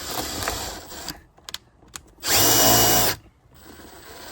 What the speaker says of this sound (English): now we drill 2 holes.